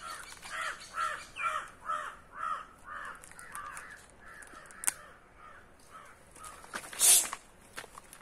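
A crow caws repeatedly in a quick, evenly spaced series of harsh calls, fairly near and clear, followed by a few quieter thumps and a louder call near the end.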